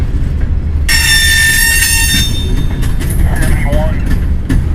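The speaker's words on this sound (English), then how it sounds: "Train 471, I believe, is what we're listening to. Here comes the DPU." A Norfolk Southern freight train rolls past at the south end of a Chattanooga rail yard as a DPU locomotive arrives, with loud rumbling wheels and bursts of high wheel squeal; someone talks over the noise.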